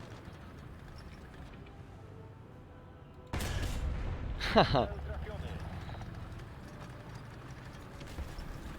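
An explosion in the tank battle game War Thunder, played in an M4A2 Sherman, bursts in abruptly partway through and keeps rumbling, with a sharper crack a second later. A man laughs over it.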